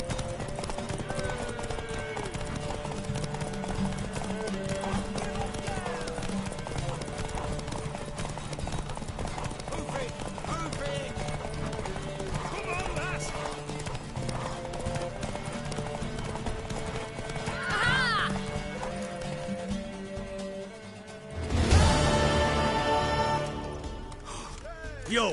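Horse hooves clip-clop steadily in The Witcher video game, with a mare whinnying, over a music bed with voices talking, then a louder burst near the end.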